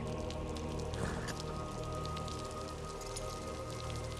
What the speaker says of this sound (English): And the rains begin.